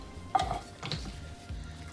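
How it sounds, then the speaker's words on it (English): A spoon scrapes and clinks inside a can while stirring liquid to loosen the contents for cornbread dressing, three brief metallic strokes at close range with quiet gaps between, no speech. "So we're gonna stir it and try to get everything out the bottom of the can"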